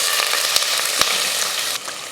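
Onion, green chilli and whole spices like cinnamon, cardamom, cloves and bay leaf sautéing in hot oil, a loud continuous crackling sizzle broken by two brief utensil knocks.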